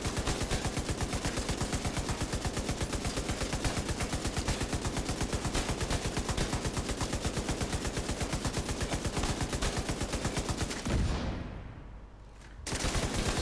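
Heavy gunner weapon firing in the video game Division 2, a long, loud, rapid automatic burst of evenly spaced shots that stops near the end, then briefly resumes.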